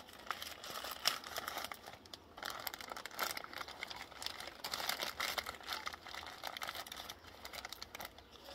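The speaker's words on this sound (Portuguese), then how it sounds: "Como eu não vou aproveitar o plástico, eu vou cortar ele aqui para já sair tudo, ó." Plastic wrap being cut and torn away from a stingless bee hive box during a colony transfer: close, continuous crinkling and ripping with scattered sharp crackles, no talk.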